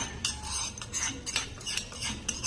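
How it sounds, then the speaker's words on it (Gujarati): Spiced paste being mixed into puffed rice (mamra) for a sev mamra snack, with rhythmic crisp rustling strokes and light metallic clinks of a spoon against the bowl, close and with no talking. "આ રીતે થોડા મમરા લઈને આપણે તેમાં મિક્સ કરી લઈશું."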